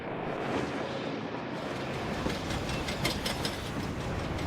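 A train rattles along in an old documentary-film scene, a steady, fairly quiet mechanical clatter with faint rhythmic clicks running throughout, without any speech.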